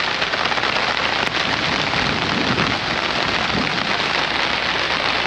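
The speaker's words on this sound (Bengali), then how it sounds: "মুষলধারে বৃষ্টি হচ্ছে, আপনারা দেখতে পারেন।" Heavy pouring rain in the Sundarbans mangrove forest, a dense, steady roar of downpour that stays loud and unbroken throughout, with no voices.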